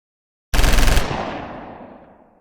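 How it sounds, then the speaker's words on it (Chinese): Gunfire at the execution of Ceaușescu and his wife at a doorway, a sudden loud rapid burst of shots lasting about half a second, then a long echoing decay, no voices. "枪声响起"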